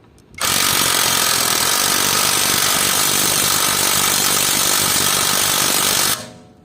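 A cordless drill loosens a car wheel lug nut, its impact action hammering in a loud, steady rapid rattle for about six seconds before cutting off.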